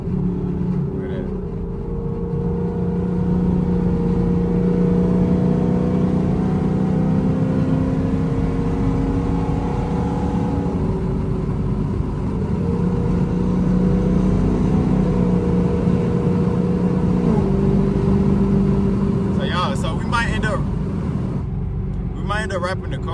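A Chevrolet Camaro ZL1 V8 drones loudly from inside the car during hard pulls in a tunnel, a sustained deep roar whose pitch rises and falls across long stretches, with a voice talking over it.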